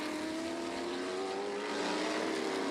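An F5000 race car screams at high speed down the back straight at Pukekohe, a sustained high-pitched engine tone rising slightly in pitch, steady and fairly faint, with no talking.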